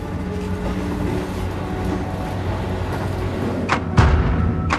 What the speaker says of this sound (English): It hurtles past the platform at 120 kilometers per hour.